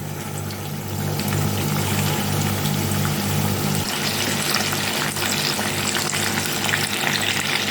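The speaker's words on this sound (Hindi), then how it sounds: "अब मैं इसमें अपने कोफ्ते ऐड कर देती हूँ।" Beef kofta hits hot oil in a pan as a continuous crackling sizzle that swells louder after the first second and stays dense and close, with no voices.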